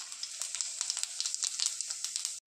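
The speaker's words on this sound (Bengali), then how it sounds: "দিয়ে দিচ্ছি শুকনো লঙ্কা আর গোটা জিরে ফোড়ন" Dried red chillies and whole cumin seeds sizzle sharply in hot oil after prawns have been fried, a steady bright crackling hiss with dense popping spits throughout, close and alone.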